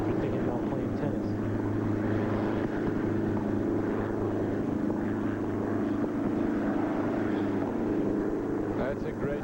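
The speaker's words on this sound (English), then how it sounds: "I wonder if either player will look up and check on that chopper that is flying by above them." A helicopter passes overhead during a 1996 Cincinnati tennis quarterfinal, heard as a steady low rotor drone that runs throughout beneath continuous commentary and crowd ambience.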